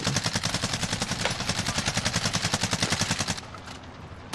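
Rapid automatic gunfire in Warzone, a steady stream of loud, evenly spaced shots for over three seconds before cutting off, then a brief quieter pause and another shot.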